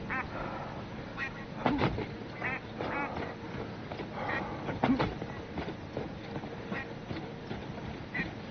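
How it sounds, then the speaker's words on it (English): Repeated duck quacks in the Dawn of Defiance video game, sounding close by in short bursts that recur through the scene over steady game ambience and footsteps. "Hear that duck laughing at me?"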